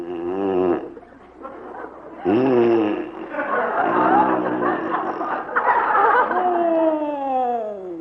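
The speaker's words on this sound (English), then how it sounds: "there must be something that'll put a stop to that hideous snoring" A man snores loudly in bed during a comedy radio drama, long rasping breaths rising and falling in repeated cycles, close and alone with no other voices.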